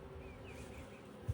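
Honey bees at an opened hive frame holding capped brood, a faint continuous buzzing hum with a few rising whines of individual bees passing close, and a brief low bump near the end.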